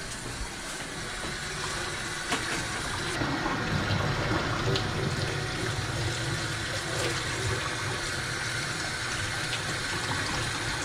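Hot tap water gushing steadily indoors to rinse dye out of a bulls-eye tie-dye T-shirt, a loud continuous rushing stream that runs unbroken throughout.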